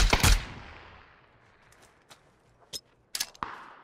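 Gunfire in the video game PUBG opens with one loud, sharp burst, followed by a few faint, scattered shots and clicks against near silence.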